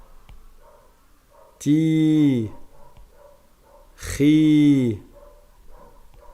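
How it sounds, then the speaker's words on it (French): The neighbours' dog gives two loud, clear barks spaced a few seconds apart, heard faintly through the room between short spoken syllables. "il y a le chien des voisins qui n'arrête pas d'aboyer"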